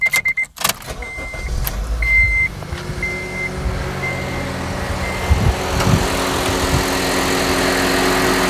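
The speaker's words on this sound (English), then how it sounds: "So it's telling me to start the engine." A car engine cranks briefly, then catches and settles into a steady idle, while a dashboard chime beeps at a regular pace in the background.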